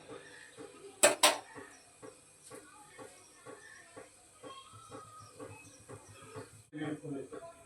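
An eggless pancake is turned in a frying pan: a sharp metallic clatter of a spatula against the pan, then soft scraping and light clinks, followed by a duller thump near the end, with a voice talking faintly.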